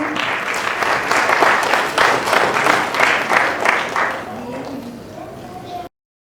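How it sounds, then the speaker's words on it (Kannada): An audience at a Rajyotsava celebration breaks into loud, dense applause that swells for several seconds, then thins and fades as a voice begins over the dying claps. "ಎಲ್ಲರೂ ಚಪ್ಪಾಳೆ ಮಾಡಿ ಪ್ಲೀಸ್"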